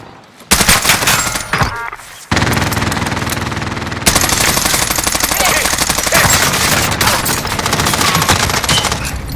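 Loud, dense bursts of automatic gunfire from Warzone battle royale on Rebirth Island, with rapid overlapping shots that run almost without pause after a short lull near the start.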